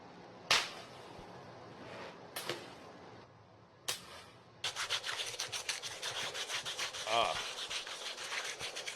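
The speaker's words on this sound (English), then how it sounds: "Just sanding wood with his hands, dude." A few scattered sharp knocks give way to steady, rapid rasping strokes of hands rubbing and sanding wood, close and fairly quiet.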